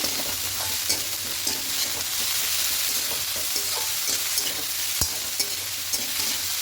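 Red amaranth leaves being stirred as they fry in a pan, with salt and a little sugar added: steady sizzling hiss with soft scraping strokes throughout and one sharp utensil knock near the end, no talk.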